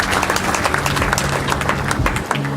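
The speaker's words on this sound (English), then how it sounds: "A round of applause for him," A crowd claps loudly and densely for a managing director taking the stage at a city launch event, the applause continuous and close for the whole span, with a low hum underneath.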